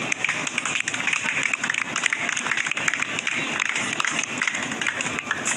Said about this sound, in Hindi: और तालियां भी बजाते हैं